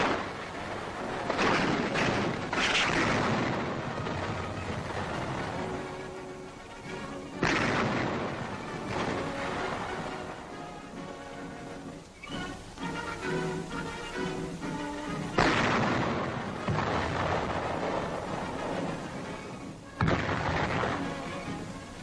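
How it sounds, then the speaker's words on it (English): Guns fire at mock German tank targets towed on range tracks 500 to 800 yards away during a 1942 Army demonstration, heavy repeated blasts in loud bursts over roughly twenty seconds. "rifles that are to fire at targets 500 to 800 yards afield"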